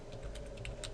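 Typing on a computer keyboard, a few faint, quick key taps over a steady low background hum, very brief.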